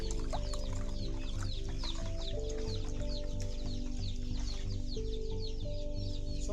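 A crowd of day-old chicks chirps constantly in a poultry brooder, many overlapping high peeps over a steady low machine hum.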